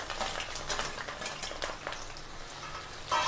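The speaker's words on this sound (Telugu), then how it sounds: "ఇప్పుడు వీటిని ఆయిల్లో మంచిగా ఫ్రై కానిద్దాం" Sliced onions fry in hot oil for a chicken curry, a soft continuous sizzle heard close up, broken by light scraping and clinks of a stirring utensil against the pan.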